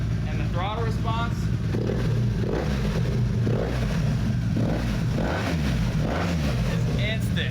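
Honda Interceptor VF500F motorcycle engine running at a smooth, steady idle near 900 to 1,000 RPM with brief throttle blips, loud and close, with a voice briefly over it.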